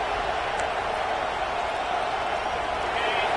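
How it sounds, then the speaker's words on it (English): A large college football stadium crowd in a video game roars continuously at a steady level, a dense wash of cheering noise with no breaks. "This crowd bringing the energy and noise early."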